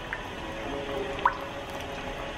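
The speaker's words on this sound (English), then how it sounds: "Give that a stir." A spoon stirring broth in a soup pot for a one-pot meal, giving faint wet sloshing and drips with one brief clink midway, quiet and close.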